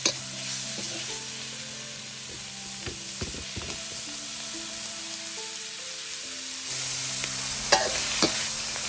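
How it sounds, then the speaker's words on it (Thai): Pork belly stir-fried in a pan to render out its fat, a steady loud sizzle with repeated scraping stirs throughout and no talking. "หมูสามชั้นคั่วให้มันออกน้ำมัน"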